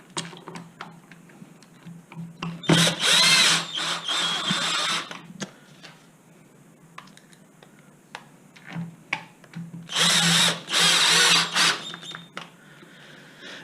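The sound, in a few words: power drill driving screws into Zip X5 gearbox housing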